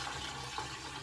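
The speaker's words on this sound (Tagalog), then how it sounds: "Lagyan na natin ng tubig." Water running from a tap into a flower vase indoors, a steady, close, moderately quiet pour that fills the vase with no talking over it.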